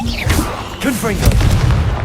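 A Confringo fire spell explosion goes off in Hogwarts Legacy on PS5, heavy booming blasts mixed with other combat effects and a voice, loud and dense across the whole moment.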